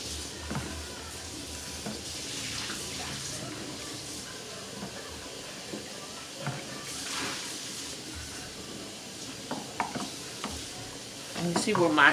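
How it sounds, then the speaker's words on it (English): Rice stirred in a pot as it cooks on the stove, soft scraping and shuffling strokes over a low steady sizzle, with a few louder scrapes toward the end. "this one here, you're gonna have to stir while it is cooking"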